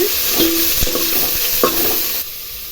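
Onions and tomatoes fry in a pan for a tamarind vegetable curry as a spoon stirs them, giving a close sizzle with a few scraping strokes over under three seconds before the sound drops off.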